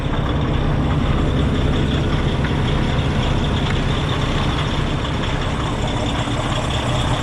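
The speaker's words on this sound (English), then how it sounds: "Let you have a listen to the engine." A 2012 Kenworth T660 truck engine idles in a steady, unbroken low rumble, heard up close and alone without any change in pace.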